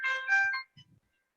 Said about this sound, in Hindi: मैं किसी का फोन आ रहा है